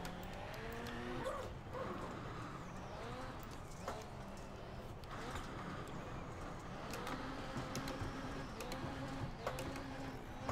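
A rally car in the iRacing rallycross sim revs and bogs as gear shifts fail, with engine pitch rising and dropping repeatedly over several seconds. Talk runs faintly underneath.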